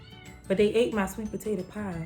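A cat meows repeatedly behind a basement door, several clear, plaintive calls close by, mixed with someone talking.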